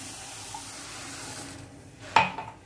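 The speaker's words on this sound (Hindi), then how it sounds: "उसी के बराबर मैं 1 कप पानी डाल रही हूँ।" A cup of water is poured into a pan of sugar to start jalebi syrup, a short close splash and gurgle arriving suddenly after a quiet kitchen hum, then quickly tapering off.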